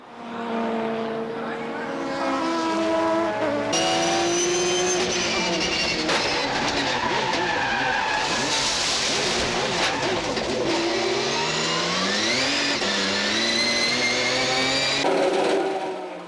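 Racing cars in a 2000 JGTC GT race, the Loctite GT-R pressing hard on the Takata Dome NSX, scream past with rising and falling engine pitch and gear changes, loud and continuous, under a commentator's voice.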